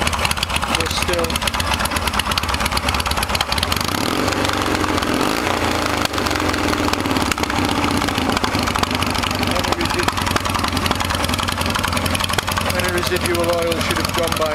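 Yamaha XS650 chopper motorcycle engine running steadily, a loud continuous throbbing drone that fills the clip with little change, close up and dominant throughout, and a few faint sputters mixed in.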